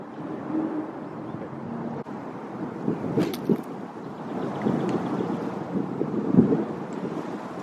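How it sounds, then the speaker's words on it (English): Steady wind gusting across an outdoor golf practice range, a broad continuous rush buffeting the microphone, rising in a few stronger gusts with a brief sharper knock midway. "it is kind of windy"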